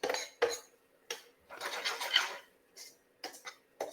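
Rice with paprika being stirred in a pan for crispy rice with mushrooms, a utensil scraping and clinking against the metal in short, irregular bursts with quiet gaps between them.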